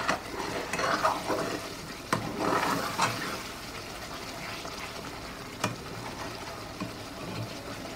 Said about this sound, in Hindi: जब तक हमारा मसाला भुन रहा है